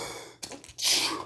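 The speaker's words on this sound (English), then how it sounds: "Sorry about that sneeze" A single sneeze bursts out close by, a brief sharp intake followed by a loud hissing, breathy expulsion that trails off, with no talking.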